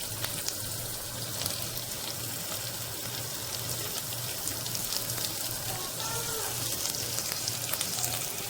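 Green chillies and onions fry in hot oil with a steady, close crackling sizzle that holds evenly throughout, with no voices.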